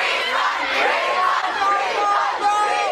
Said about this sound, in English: the crowd outside was fired up